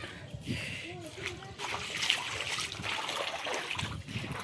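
Water splashes and sloshes underfoot on a flooded rooftop as the pooled water is pushed out by foot, fairly close and continuous, under a person's talking.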